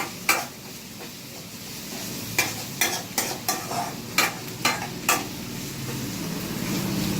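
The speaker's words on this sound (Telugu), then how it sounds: "దగ్గరగా చూడండి, బాగా కలబెట్టుకోవాలి ఇట్లా" Tomato and onions for a chicken curry cook over low heat in a pan under a soft sizzle, while a utensil knocks and scrapes against the pan in a run of about ten sharp strokes; no voice is heard.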